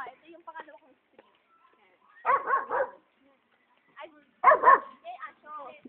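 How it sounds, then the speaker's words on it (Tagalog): A large dog barks nearby in a residential subdivision, two bursts of rapid barks separated by quieter moments, with faint speech at the edges. "Ay, aso."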